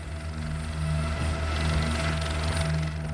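A helicopter on the aircraft carrier Charles de Gaulle drones steadily throughout, its rotor and engine hum constant and fairly near, with no voices.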